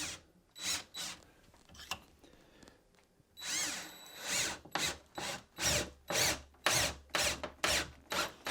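Power drill driving 2.5 inch reinforcement screws at an angle through plywood decking into the framing, a series of short whirring bursts close by, quicker and more rhythmic in the second half.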